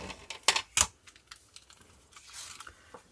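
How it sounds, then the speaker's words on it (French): A craft knife drawn along a ruler slices through card for a handmade Christmas card, two sharp scraping strokes close up followed by fainter scratchy cutting sounds, with no talking. "je prends ma règle avec mon cutter et je vais couper"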